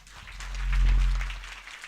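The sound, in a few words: audience applause welcoming speaker Samantha Yuen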